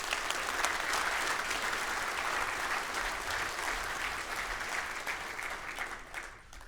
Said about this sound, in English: can I please have a round of applause for these fantastic individuals?